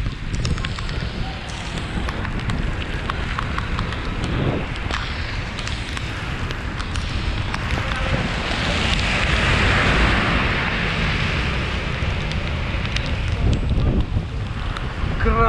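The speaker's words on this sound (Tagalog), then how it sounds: "Rain gently falls." Rain falls during a bike ride through a typhoon, a dense steady hiss mixed with wind buffeting the microphone, loud and continuous throughout with no one talking.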